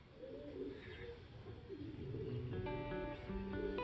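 Released racing pigeons cooing and calling outdoors over a steady low rumble, with birds passing close by amid background noise.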